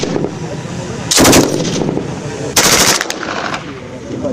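KCR 556 and KMR 762 rifles fired during a weapons demonstration at BAMEX 2025 in Koulikoro, two loud sharp automatic bursts about a second apart, with outdoor background noise between them.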